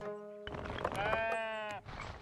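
Sheep bleating in the Tiny Glade building game, a single long wavering bleat held for over a second, fairly clear and prominent after a short lead-in of softer tones.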